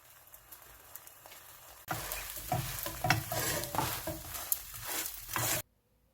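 Egg mixture frying in a pan on medium-high heat for kimbap, a quiet hiss that jumps to a lively crackling sizzle for several seconds before cutting off abruptly.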